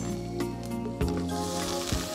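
Ginger and garlic fry in hot oil with a little turmeric, giving a bright, continuous sizzle and crackle, with a couple of short stirring scrapes breaking through.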